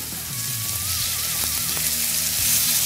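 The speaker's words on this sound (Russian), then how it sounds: "В очень хорошо нагретую сковородку я выкладываю курицу." Steady loud sizzling and crackling of chicken frying in a very hot pan for shawarma, with occasional scraping and clinks of utensils.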